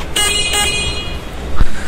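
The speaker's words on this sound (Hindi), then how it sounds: "तो इस प्रकार का इसका हॉर्न आता है" A Jawa Perak BS6 2022 motorcycle gives two short, loud horn toots close by, followed by a faint thud against light background noise.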